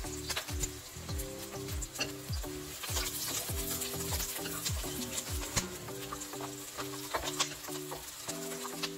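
Onions fry in a pan for dhaba-style shahi paneer, a continuous sizzle with light crackles and stirring, set against a faint rhythmic tonal background.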